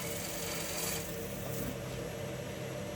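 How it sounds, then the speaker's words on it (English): A bowl gouge shear scraping the outside of a wooden bowl spinning on a lathe, giving a steady close rasping scrape that continues without pause. "Just going to use shear scraping so the flute is facing the wood, the handle is dropped."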